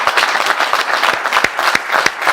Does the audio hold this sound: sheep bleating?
no